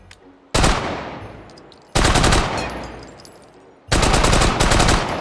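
A Japanese Nambu 8x22 firearm fires in the VR game H3VR: three loud, rapid bursts of close shots, each cutting off sharply and trailing into a short fading echo.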